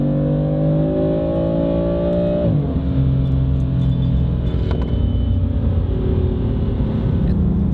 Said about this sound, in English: The valves are now closed. Let's do another acceleration run. And now open mid acceleration.